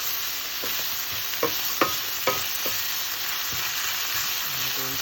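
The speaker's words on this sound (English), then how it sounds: "Actually, and then mix everything." Chopped cabbage and garlic frying in a hot pan, a steady loud sizzle broken by a few clacking scrapes of a utensil stirring, with no talk.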